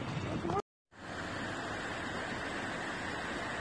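A small waterfall splashes among trees as steady broadband rushing water, briefly cut off by a short gap of silence and then resuming, with a faint voice at the start.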